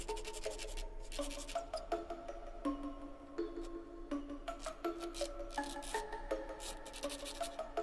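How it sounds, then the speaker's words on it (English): A hand file rasps back and forth over scrap wood to round off the edges of a small cut piece for a Halloween jack-o'-lantern project, a steady run of close, soft scraping strokes with no talk. "I then just took a file just to round off the edges."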